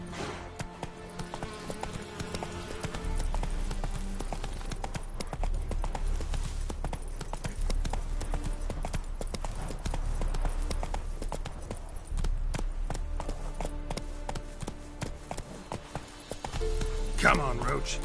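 Roach the horse galloping in The Witcher 3: Wild Hunt, a rapid, steady clip-clop of hooves over low game ambience, with a voice speaking briefly over it.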